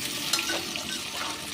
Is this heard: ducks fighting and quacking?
no